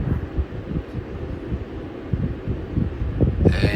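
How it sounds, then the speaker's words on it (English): Wind gusts across a snowy hillside during a Pennsylvania deer rifle hunt, buffeting the microphone in low, uneven rumbles, with a brief airy hiss rising near the end. "The wind's blowing."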